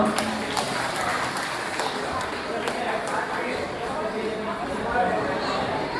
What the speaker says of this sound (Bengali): একটু হাততালি হোক সবার জন্য।